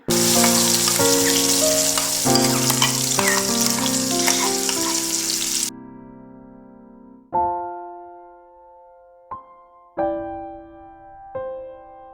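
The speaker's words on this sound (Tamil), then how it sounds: "தாளிச்சிட்டு அரைச்சி வச்சுருந்த வெங்காயத்தையும் சேர்த்துக்கிறேன்" Loud, crackling sizzle of ground onion paste frying in hot oil for about six seconds, then it cuts off and a few ringing metallic clinks follow.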